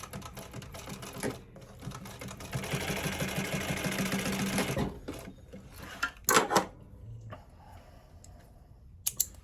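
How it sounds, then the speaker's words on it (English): An industrial sewing machine top stitching a leather bucket bag runs in one steady, rapid, close burst for about two seconds, followed by scattered clicks and handling knocks as the work is adjusted. "And then we'll use the other machines to top stitch."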